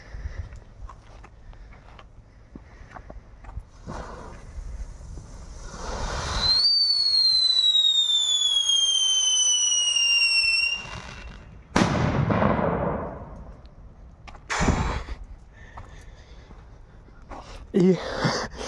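Old, powerful firecrackers are set off outdoors: a long shrill whistle lasts several seconds, then sharp, loud bangs follow at spaced intervals while people talk in the background.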